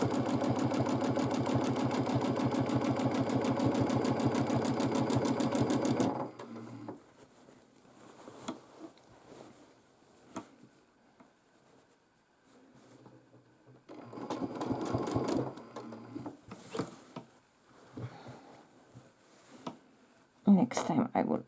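A domestic sewing machine quilting a large quilt whirs steadily for several seconds, then stops; a voice talks afterward over soft handling noises, and the machine briefly starts again.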